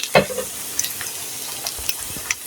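A lentil snack made from masoor dal sizzles in hot oil in a pan, with a steady close hiss and occasional sharp pops and scraping stirs, no talking.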